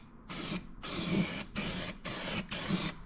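Rust-proofing coating sprayed in four bursts of steady hiss, roughly half a second to a second each with short gaps, onto a Vauxhall Corsa B; close, no talk.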